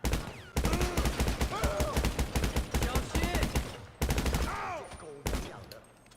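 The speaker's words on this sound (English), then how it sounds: "Oh, that was a nice little rapid fire bug." A rapid-fire bug in GTA 5 Online sends out a fast, continuous stream of loud gunshots, dense and evenly spaced, broken by two brief pauses, with a voice talking faintly underneath.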